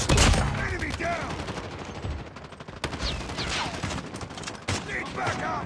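Rapid machine gun fire in the mobile shooter game Call of Duty Mobile, dense bursts of gunshots rattling over game effects, with voice callouts heard faintly in the mix.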